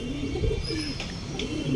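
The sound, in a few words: pigeon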